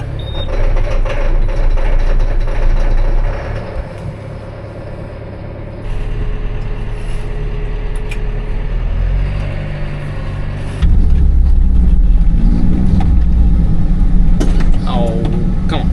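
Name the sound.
tractor engine starting after preheat on a cold morning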